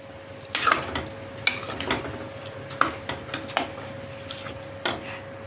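A spoon scrapes and clanks through rice in a pot while pulao cooks, giving a run of irregular metallic knocks and scrapes over a low steady hum, close and moderately loud.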